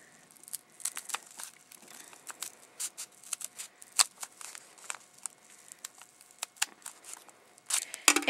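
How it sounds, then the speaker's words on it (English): Scissors cut through folded fabric with a paper template pinned to it for a plush toy, giving quiet, close, irregular snips and crinkles of paper. The snips speed up near the end, and no one speaks. "take your scissors and cut directly through the template"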